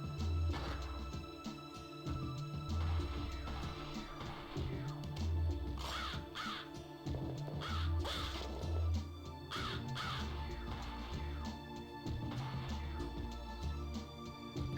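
Crows caw repeatedly in a horror video game, with harsh scattered calls over a low droning musical bed. The calls come in irregular bursts throughout.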